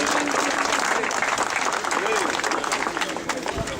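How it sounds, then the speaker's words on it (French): Crowd applauding outdoors at the start of the 26th Tour de l'Aude cycling event, a broad, busy patter of clapping with voices mixed in, fairly loud and sustained. "Je crois qu'on peut l'applaudir."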